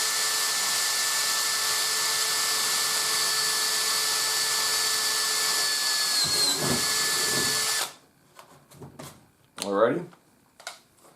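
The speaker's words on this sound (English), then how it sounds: "Let your drill bit do the work." A power drill whines steadily as it bores through a gas can, then stops abruptly, followed by a few clunks and brief talk.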